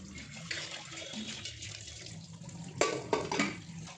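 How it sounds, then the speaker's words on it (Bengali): Water runs steadily while cooking pots are washed at close range, with a few sharper clatters and splashes near the end; quiet overall. "সেই কয়েকটা বাসন ভালো করে মেজে নিয়ে ধুয়ে ধুয়ে রাখছি"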